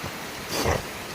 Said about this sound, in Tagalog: tingnan mo mga kaibigan ang lakas ng ulan at ang dilim ng langit oh